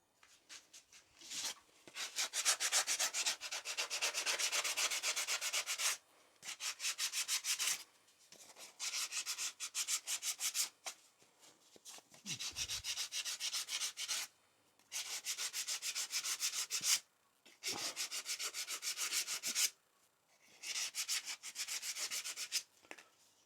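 Light hand sanding of a wooden tack hammer handle, made in repeated rasping strokes of a few seconds each with brief quiet gaps between them, close up and unaccompanied by talk.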